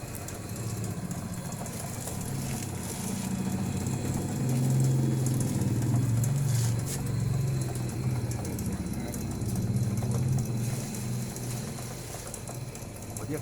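Engine of an eco-friendly waste incinerator machine running steadily, a continuous mechanical hum and droning rumble that swells slightly midway, with people talking intermittently nearby.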